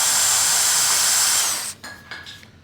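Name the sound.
power drill drilling into pinewood derby car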